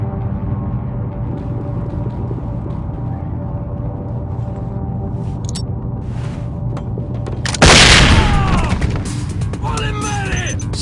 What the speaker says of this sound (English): Red team. Deploy flashbang.